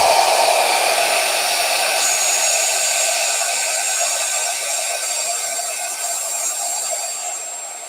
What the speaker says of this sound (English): I don't want to talk over the vacuum here